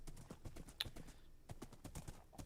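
Horse hooves clip-clop in the Minecraft video game, a fast, even run of soft clicks, close and fairly faint, with no one talking.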